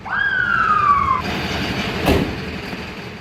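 A loud fire, police or ambulance siren wails with a falling pitch and then cuts off, leaving rumbling street noise and a sharp burst, on a Konya street during a fire.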